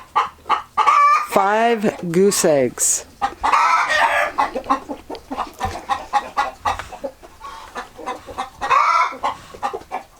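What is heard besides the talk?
chickens clucking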